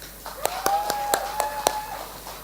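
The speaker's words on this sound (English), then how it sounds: "A big round of applause for you." Scattered hand claps from a poetry festival audience, a handful of sharp separate claps at an irregular rhythm rather than full applause, with a voice in the background.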